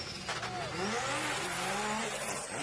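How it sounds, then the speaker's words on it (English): A drift car engine at a drift competition in Malaysia roars continuously with rapid crackling pops from anti-lag, rising pitch and tire squeal, loud and steady without pauses. "Lots of anti-lag on that car, Kent Yong."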